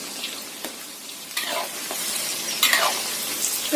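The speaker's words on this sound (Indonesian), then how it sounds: "Kita goreng sampai kuning keemasan atau kering." Chicken pieces for crispy fried chicken frying in a pan of oil over medium-low heat, a steady close sizzle with occasional stirring scrapes and brief clinks, no voices.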